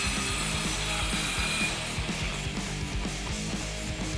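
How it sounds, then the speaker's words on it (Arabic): Cartoon sawing of a wooden board, heard as a steady run of rough, rhythmic back-and-forth strokes with a ratchety, mechanical edge. The strokes are loud and close, with no talking over them. "البورد ده محتاج يتقص"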